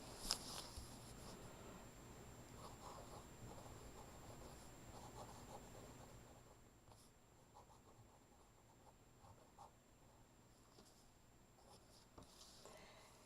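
Hobonichi pen gliding across paper, a soft, steady scratching of smooth writing strokes, faint and close, continuing with brief pauses.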